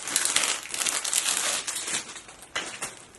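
Crinkly plastic baggie holding a makeup brush set from a beauty subscription box, handled up close in a steady run of loud rustling and crumpling, with no talk over it.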